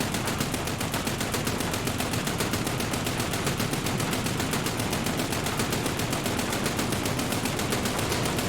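Sustained rapid machine gun fire from a boat's guns in War Thunder, a dense, steady rattling burst that runs continuously for the whole stretch, loud and close with no talking over it.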